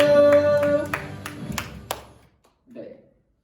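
Children at an elementary Sunday school church service clap in a brief burst of applause that fades within about two seconds, followed by a short bit of voice.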